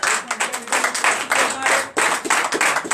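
A church congregation at a Sunday service in Comè, Benin, claps loudly in quick, rhythmic bursts, a full and close sound that pulses steadily with only a brief dip near the middle.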